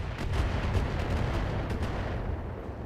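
Heavy artillery-style thuds and dense rumbling barrage from a Locust mech's mortars in the BattleTech video game, loud and continuous with sharp repeated impacts throughout, no talk.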